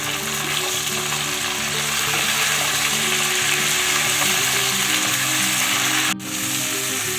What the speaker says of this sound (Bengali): শিম দিলাম, বেগুন দিলাম, বরবটি আর কাঁচা কলা, এগুলো দিয়ে একটু ভেজে নেব